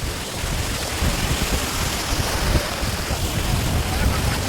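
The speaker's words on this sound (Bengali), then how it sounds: "তাই আজকে সমুদ্র খুবই উত্তাল, সমুদ্র খুবই উত্তাল।" Rough sea surf breaking on a beach, a continuous loud wash of waves mixed with gusting wind noise across the microphone.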